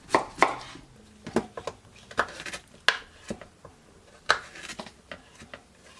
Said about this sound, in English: You're going to cut these into little pieces.